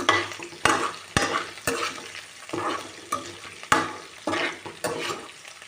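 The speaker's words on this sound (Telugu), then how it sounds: "పచ్చిమిరపకాయ ముక్కలు వేసి మొత్తము ఇలా దోరగా వేయించుకుందాము." Chopped green chillies fry in a pan, with sharp, regular stirring strokes about every half second over a soft sizzle, close up and without talk.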